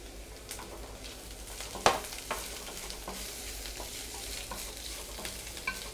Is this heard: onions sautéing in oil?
yes